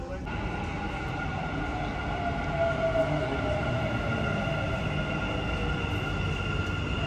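A Dubai Metro train rolls into a station with a steady low rumble and sustained high-pitched tonal whine that swells slightly midway, heard close and continuous with no talk over it.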